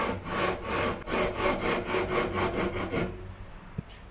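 A sanding beam rubbed back and forth along a wooden guitar neck during a build, about a dozen steady rasping strokes close up, then it stops.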